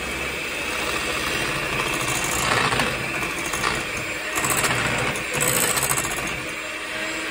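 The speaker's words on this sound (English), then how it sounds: "we're going to whisk this up together" An electric mixer whisks cream cheese and icing sugar with a continuous loud, gritty motor whir that rises and dips slightly as it works the mixture.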